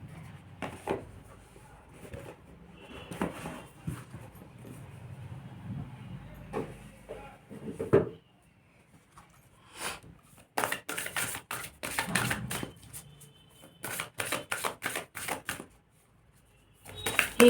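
Oracle cards from a gods, goddesses and guardians deck are shuffled and drawn by hand, giving a run of quick, dry riffling and slapping bursts, sparse at first and then in dense clusters, close and fairly loud with no talk.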